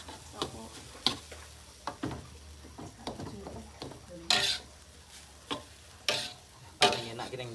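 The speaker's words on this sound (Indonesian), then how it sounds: "Masak nasi, masak nasi goreng tiwul." Tiwul fried rice is stirred and fried in a pan, with repeated scraping and clinking strokes of a spatula at an irregular rhythm over a soft background sizzle, heard up close.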